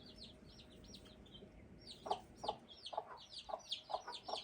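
A grey bantam hen and her small chicks outdoors on their first outing, with faint high cheeping throughout and then a steady series of soft, rhythmic clucks from the hen, quiet and slightly distant.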